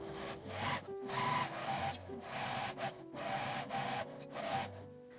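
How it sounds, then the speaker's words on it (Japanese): Sewing machine stitching a fabric seam with a one-centimetre allowance on a cross hair band, a steady mechanical whir with rhythmic bursts and brief pauses, close and moderately loud, with no talking. "1センチの縫い代で縫います。"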